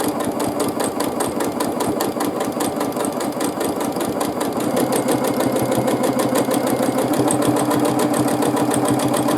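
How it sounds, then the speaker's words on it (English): Free-motion quilting on a sewing machine, stitching little arches across a quilt top: a steady, fast needle rattle with a motor hum, running continuously and close throughout with no talking. "now let's start quilting little arches"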